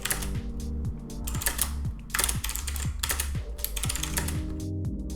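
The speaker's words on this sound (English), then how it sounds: "It is a noisy process. In an office situation, people will know up to a good distance that you are using the keyboard" Typing on an Azio MGK1 mechanical keyboard produces rapid, irregular clacky keystrokes in quick bursts, close and crisp, continuing steadily for several seconds without talk.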